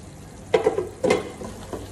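Chicken with capsicum (shimla mirch) cooks in a pan over a medium flame, giving a soft steady sizzle broken by a few short stirring scrapes.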